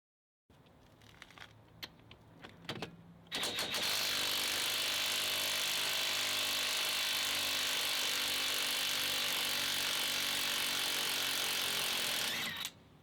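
A cordless impact wrench, DeWalt DCF894 or Makita XWT14, hammers loose a stubborn lug nut: a few short bursts, then a loud sustained rattling impact run of about nine seconds before it cuts off.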